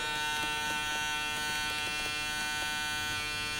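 An Andis Recon hair clipper runs steadily up close, a continuous even motor buzz with a vibrating hum and faint clicks, no voices over it.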